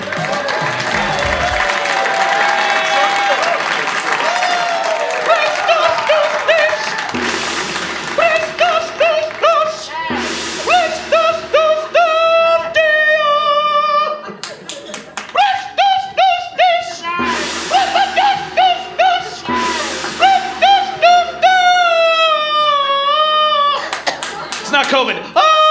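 A comedy-special crowd claps loudly for Simon Gibson as he is introduced. The dense, steady applause fills the opening seconds, then gives way to a tonal musical passage.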